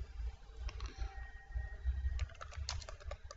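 A comment is typed on a computer keyboard, with quiet, close keystrokes that start sparse and then quicken into a brisk burst near the end over a low background hum.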